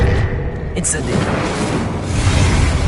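Incendio fire spell cast in a Harry Potter video game, a dense whooshing burst of flame with low booming rumble filling the whole span, loud and continuous, with a brief bright flash near the start.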